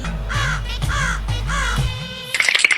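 A crow caws four times in a horror video game, loud and close, in a steady rhythm over a low droning hum, then gives way to a short burst of clattering noise.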